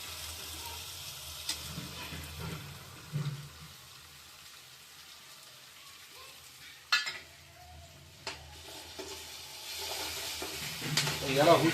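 Paste of three medium tomatoes sizzling and frying in oil in a pan, with scattered stirring clatters and scrapes of a spoon over a steady low sizzle.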